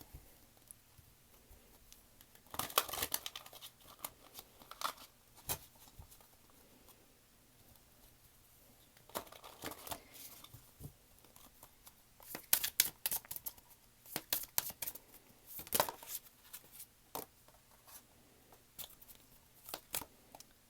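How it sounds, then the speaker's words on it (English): A deck of tarot cards being shuffled by hand, quiet intermittent bursts of riffling and flicking with brief crisp slaps, separated by near-silent pauses. "let me shuffle this and get some more cards for some more clarification."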